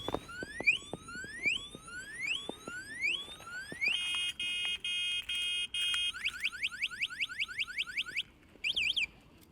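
The anti-theft alarm on a DYU A5 folding e-bike shrieks loudly and close by, cycling through rising chirping sweeps, then steady pulsing beeps and warbling tones.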